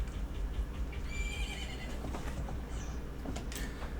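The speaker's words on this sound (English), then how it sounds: "Isn't that your horse?" Epona, the horse in Zelda: Majora's Mask, gives a short, high whinny over a dense, steady game soundscape.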